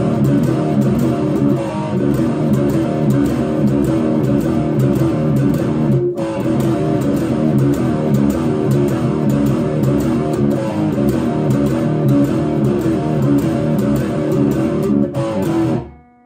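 Heavily distorted electric guitar chugs through the verse riff of a song, repeated palm-muted power chords on the low strings, loud and continuous with a brief break midway before stopping abruptly.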